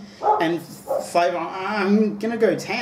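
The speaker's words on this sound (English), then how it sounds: "That's the dog." A dog barks and yips a few times close by, mixed in with a person talking over it.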